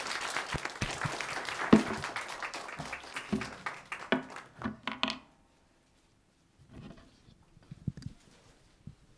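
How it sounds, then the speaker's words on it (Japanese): An audience at a forum claps to welcome a speaker to the stage, a dense burst of many hands that thins into scattered claps and stops at about five seconds, followed by quiet with faint shuffling. "拍手でお待ちください"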